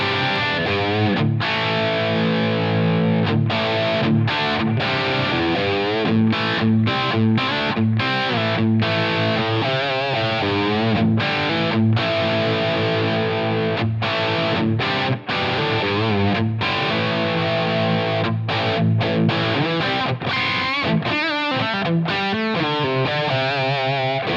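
Heavily distorted electric guitar through a Line 6 Helix processor, first dry and then with the Kinky Boost effect, playing a continuous riff of chords and notes loudly and alone for about twenty seconds.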